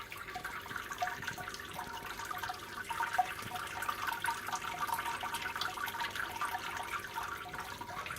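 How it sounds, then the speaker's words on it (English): Wort drains steadily through the lifted basket of a Brewzilla 65L all-in-one brewing system, a continuous close trickling and splashing of liquid that holds even throughout, with no voices. "It's just draining through."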